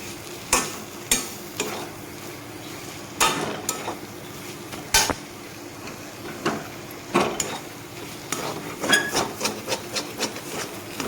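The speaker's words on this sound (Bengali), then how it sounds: "চিনি তো ভালোভাবে আলুর সাথে সয়াটাকে মশলার সাথে মিশিয়ে নিব" Soybean chunks mixed with potato and spices in a pan for a cutlet filling, repeated close scraping and rubbing strokes of a spoon with a faint sizzle between them.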